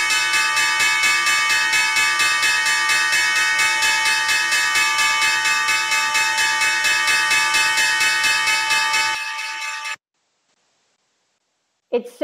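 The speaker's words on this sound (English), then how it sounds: "That is the closing bell on Wall Street." Closing bell on the Wall Street stock exchange floor rings loudly and continuously with rapid even strikes for about nine seconds, then stops abruptly into silence.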